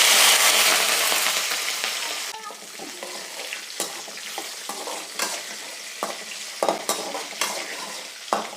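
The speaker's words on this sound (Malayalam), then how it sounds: "അപ്പോൾ നമ്മൾ വെളുത്തുള്ളിയും പച്ചമുളകും ഇട്ടു" Garlic and five or six chopped green chilies hit hot oil in a pan on a low flame with a loud burst of sizzling that fades to a steadier fry, punctuated by sharp clinks of a spoon stirring against the pan.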